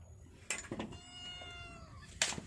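A cat gives a few soft meows, separated by short pauses, fairly close and quiet, followed by one louder sharper meow at the end.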